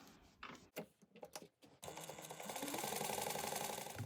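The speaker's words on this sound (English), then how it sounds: "you're going to top stitch down each side at 1/8 of an inch" Sewing machine top stitching a small fabric bag, a few short start-stop bursts of needle chatter followed by a steady, continuous rapid stitching run, close and clear.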